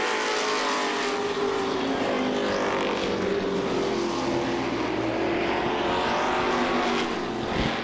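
Street stock race cars roar around an oval track at Lee USA Speedway during an October afternoon race, a dense continuous engine drone with shifting pitch as the pack passes nearby.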